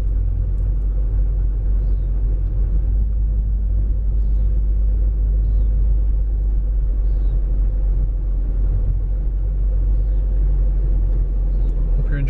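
A car drives along a track through thick forest bush, its steady engine rumble and low road noise continuous throughout, with faint higher-pitched chirps drifting in now and then.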